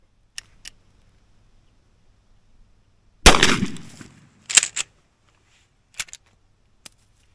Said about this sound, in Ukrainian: зараз будуть мої перші постріли